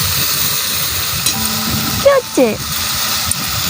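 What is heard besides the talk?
spices frying in hot oil with turmeric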